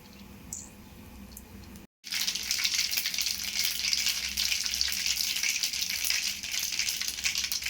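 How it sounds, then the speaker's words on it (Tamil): After a short quiet start and a brief break, a loud steady sizzle of mustard seeds frying in hot oil crackles continuously. "அளவாக எண்ணெய் போட்டுக்கலாம் கொஞ்சம் கடுகு சேர்த்துக்கலாம்"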